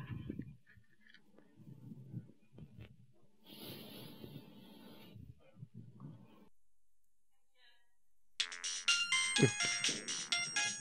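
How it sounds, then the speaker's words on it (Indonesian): A phone ringtone bursts in loudly near the end, a bright repeating electronic melody following a quieter stretch of household chatter and scattered movement. "Siapa lagi telepon?"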